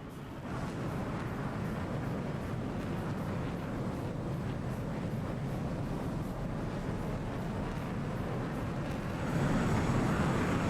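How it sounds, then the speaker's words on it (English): Twin F/A-18 Hornet jet engines in a flight simulator dogfight, a steady loud roaring rumble that holds without pause and swells slightly near the end, with no talk. "So 2 aircraft entering, 2 Hornets."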